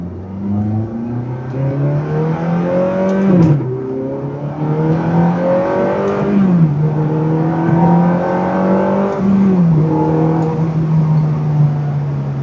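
Heard from inside a 2007 Ferrari F430 Spider on a windy drive, the engine revs up through several gears, its rising whine dropping sharply at each shift, loud and continuous.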